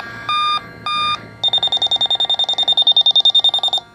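A refrigerant leak detector alarm sounds two longer tones, then a fast, steady series of loud, high-pitched beeps repeating close by.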